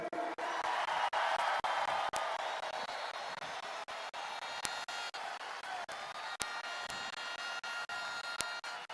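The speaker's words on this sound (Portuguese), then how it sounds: "uma salva de palmas para Elon Musk." A large crowd applauds at a political speech, a sustained, fairly distant roar of clapping and cheering that carries on for the whole span, punctuated by a few sharp clicks.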